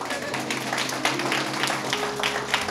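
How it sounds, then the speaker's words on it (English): A congregation applauds during a church sermon, producing a dense, steady wash of hand clapping that holds at an even level throughout. "which deserves a hand clap."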